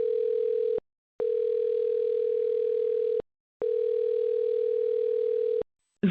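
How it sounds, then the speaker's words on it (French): A continuous telephone dial tone sounds loud and steady in three long stretches, cut off by brief silences, with no one talking over it. "Comme ça, t'entendras la tonalité"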